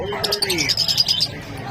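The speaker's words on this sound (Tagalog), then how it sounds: "Napakagandang ibon." An opaline Australian bird (African lovebird-type, dun fallow creamino opaline) gives a quick series of high chirps and tweets, close by, with a short lower call at the start.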